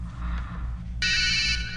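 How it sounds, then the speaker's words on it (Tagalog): A cellphone ringtone cuts in abruptly over a low background hum, a bright tonal chime that continues steadily to the end. "Nagring ang cellphone ko."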